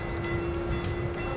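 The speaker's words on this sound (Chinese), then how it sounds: "面前这个就是城市轻轨的列车" A Baltimore city light rail train stands or rolls nearby, giving off a steady electrical hum over a continuous low mechanical rumble for the whole short stretch.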